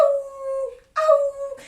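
A voice imitates a wolf howl in two long, wavering tones, each sustained and close, sliding slightly downward before breaking off, with a short pause between them.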